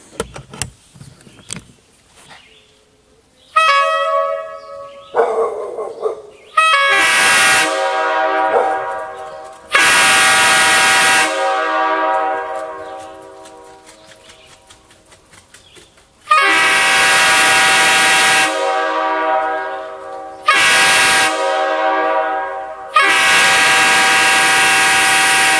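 A Nathan Airchime K5L air horn running at 115 psi sounds a series of very loud, close chord blasts, some short and some held for several seconds, separated by brief silences and small clicks.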